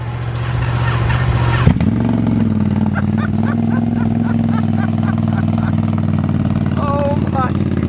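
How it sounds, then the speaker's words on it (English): A 2021 Yamaha R1M motorcycle fitted with an aftermarket exhaust fires up with a sharp crack, then settles into a loud, steady, deep idle with a throaty rumble, close by, while people talk and exclaim over it. "I'll give you a little sound of what happens when you put an exhaust on one."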